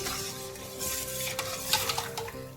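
Sugar melting in a pan, stirred steadily with a utensil while it quietly sizzles, with scraping and a few metallic clinks against the pan, close and continuous.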